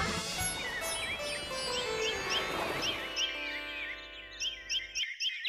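Baby birds in a kids' cartoon give a run of high, quick tweets over a busy background, then repeat in short, regular bursts against near silence at the end.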